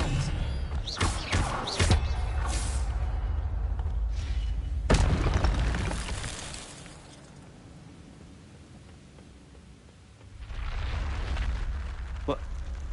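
A fire spell cast in the Hogwarts Legacy video game: a few sharp crackling bursts near the start and a strong whoosh-burst around the middle, over a rumbling low background that thins out and then swells again.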